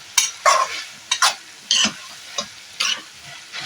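Prawns and snake gourd being stirred in a frying pan over a high gas flame, with a run of short scraping stirs in irregular bursts over a faint sizzle, close and alone.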